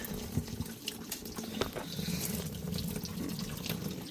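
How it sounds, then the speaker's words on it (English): Tap water runs steadily into a sink while the edge of a rock tumbler lid is washed, with splashing and light clinks from handling the lid. "I'm gonna wash the edge of that lid."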